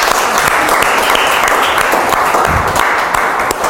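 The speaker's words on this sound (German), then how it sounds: "Geben wir hier einen großen Applaus für Ihren Mut." A close, loud burst of audience applause rises at a German workshop on trampoline experiences, dense and continuous throughout with no pause.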